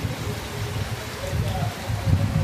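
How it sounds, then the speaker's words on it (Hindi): Rain falls steadily outdoors in strong wind at dawn near rice fields, a continuous broadband hiss with gusty low rumble underneath, fairly close and unbroken throughout. "बारिश भी जरा ना चंगी स्पीड च बारिश लगी दी है"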